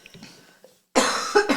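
A single sharp, loud cough close to the mic after a few quiet breathy sounds, with a brief throat rasp at its tail.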